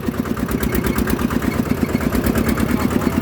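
A tuk-tuk engine idling close by with a steady, rattling chug, loud and continuous throughout.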